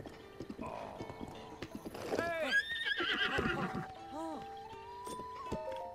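A horse in The Legend of Zelda: Breath of the Wild whinnies loudly with a rising, wavering neigh, preceded by clip-clopping hooves and followed by snorting, with someone speaking briefly over it.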